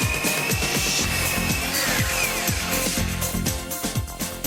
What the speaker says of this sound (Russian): Во-первых, дрель должна быть мощная.